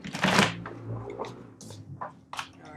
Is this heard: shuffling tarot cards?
yes